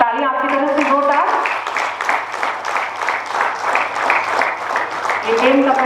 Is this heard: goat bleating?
no